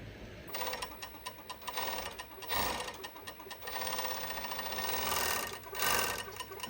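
A sewing machine stitches fabric in a rapid mechanical whir, running in bursts with short stops and restarts, close and fairly quiet.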